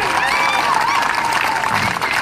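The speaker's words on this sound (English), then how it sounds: "Give her a round of applause." Crowd applauds at a ceremony honoring a female Iraq war veteran who receives a vehicle, continuous dense clapping and cheering, loud and sustained, with someone speaking over it.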